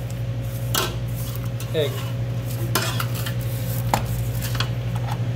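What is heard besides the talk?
spatula scraping the sides and bottom of a mixer bowl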